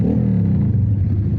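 A motorcycle with twin exhaust revs nearby on the road, giving a loud, steady low engine drone with a rising and falling throaty rumble.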